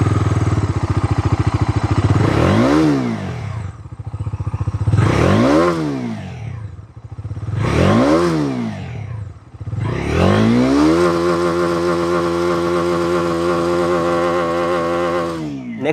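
A 2026 Bajaj Dominar 250 BS7 motorcycle blips its exhaust three times, each rev rising and falling sharply, then holds a long steady high-revving drone, loud and close with no talk.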